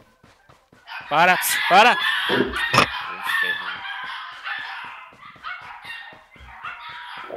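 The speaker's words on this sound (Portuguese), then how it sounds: "Ô, oh, cachorrinho." A small dog barking and whimpering in the battle royale game PUBG Lite, several sharp close barks in quick bursts that mix with game noise and a voice talking over them.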